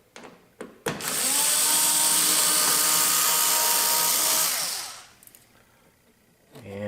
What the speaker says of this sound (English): the first thing to do is to remove the 4 torque screws, and they are T20s.